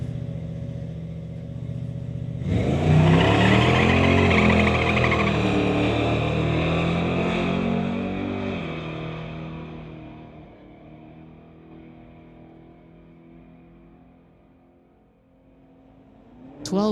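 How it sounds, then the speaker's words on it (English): A Chevrolet Malibu and a BMW launch in a street-legal drag race, their engines roaring loudly and revving hard as they pull away, then fading into the distance before a brief burst of noise at the end. "Malibu versus the BMW. I think this might be a good race right here."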